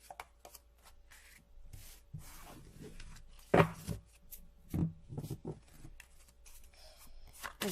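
Tarot cards are shuffled by hand in a quiet room, giving soft scraping and riffling sounds with a few sharper slaps and taps, close and fairly faint.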